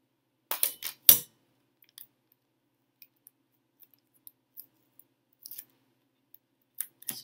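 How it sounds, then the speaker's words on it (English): Scissors snip through a green index card to cut out a circle: a few sharp, close snips near the start, then faint scattered clicks and paper rustles in a quiet room. "cut out the circle on a green index card"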